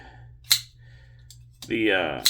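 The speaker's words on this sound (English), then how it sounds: "sound that this knife makes when it opens is a nice clack. A nice clacky thud." A folding knife with a strong detent snaps open in a sharp clack, a single crisp impact followed moments later by a voice and a second click near the end.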